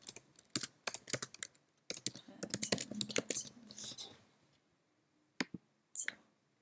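Keys tapped on a computer keyboard while entering text in explainer-video software, coming in quick bursts of close clicks with short pauses between them, then a few isolated taps near the end.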